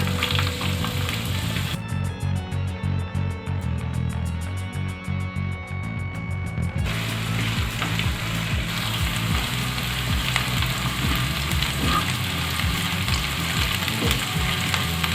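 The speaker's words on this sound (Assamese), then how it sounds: "পিঁয়াজখিনি 1 মিনিট সময় ভাজি ল'লোঁ।" Chopped onions frying in hot oil in a pan for a chicken skin dish, with a loud, continuous sizzle and crackle and occasional stirring scrapes throughout, and no talking.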